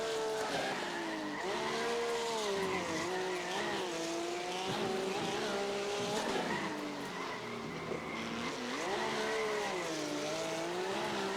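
A race car in the iRacing simulator runs at speed with its tires slipping. A continuous engine drone rises and falls with the revs, and a tire squeal runs under it, steady and prominent throughout.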